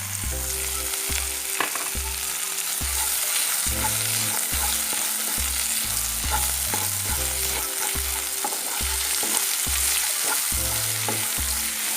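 Red spinach curry frying in a pan and being stirred with a spoon, a steady loud sizzle under rhythmic scraping strokes, with no voices.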